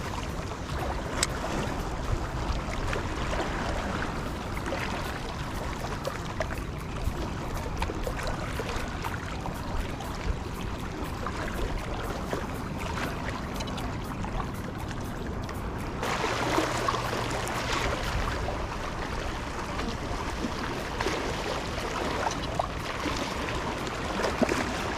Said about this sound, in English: the tide has changed, so you can see that the waves are starting to rush over the rocks